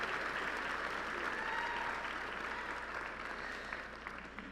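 A large audience applauds steadily at a Lamar University College of Fine Arts & Communication commencement in May 2019, a soft, distant, even wash of clapping heard from across the hall.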